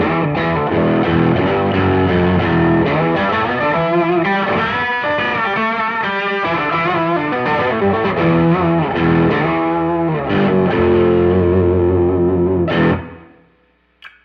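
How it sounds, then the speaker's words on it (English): Electric guitar played through fuzz with a layered octave effect, a thick, nasty distorted tone running loud and continuous for about thirteen seconds of riffing before it cuts off abruptly, leaving one brief final hit. "layer on octave sounds with my fuzz for some really nasty parts"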